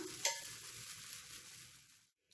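Small mini uttapam rounds fry in oil on a hot pan with a soft, steady sizzle, one brief clatter near the start, fading out into silence at the end.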